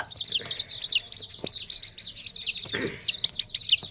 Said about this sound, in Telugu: ముద్దు ముద్దు కోడి పిల్లలు